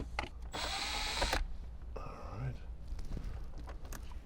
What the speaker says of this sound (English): what we need access to is this Phillips head screw right here, which we're gonna remove